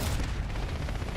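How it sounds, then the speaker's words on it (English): A concussion grenade bursts in Black Ops 6 as a dense, loud, rumbling roar that fills the brief moment without a break. "Concussion grenade."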